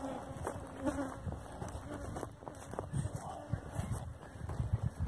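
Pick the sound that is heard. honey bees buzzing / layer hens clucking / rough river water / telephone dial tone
honey bees buzzing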